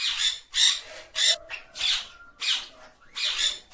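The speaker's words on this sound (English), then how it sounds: "Parrot is the bird that comes in green color. And the sound of parrot is" A green parrot gives a series of harsh, raspy squawks, about eight short bursts in an uneven rhythm, loud and close with brief gaps between calls.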